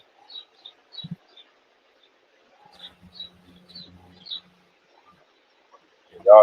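Birds singing outdoors, sparse faint high chirps and short tweets scattered across the clip, distant and quiet, with a few soft low knocks and rustles between them.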